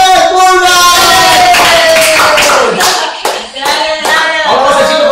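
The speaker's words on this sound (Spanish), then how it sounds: "aplausos fingidos" Applause put on as a stand-in for a crowd at a staged wrestling-style show entrance: dense, continuous clapping mixed with tonal shouts or music, loud and close for about five seconds, with a dip midway.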